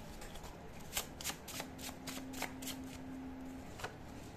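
Tarot cards are shuffled close by in a quiet room, giving soft, rapid riffling flutters and taps in uneven bursts, with a faint tone humming underneath.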